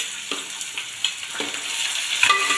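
Onion, bell pepper and potato sautéing in a pan, with a steady soft sizzle broken by several scraping stirs of a spoon at a close, moderate level.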